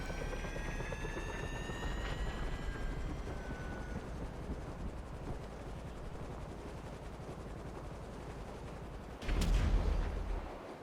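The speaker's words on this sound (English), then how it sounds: "Oh, and I've angered the police by crashing my helicopter." Helicopter rotor and engine drone from GTA Online, a steady continuous whir throughout, ending in a sudden louder crash-like burst near the end.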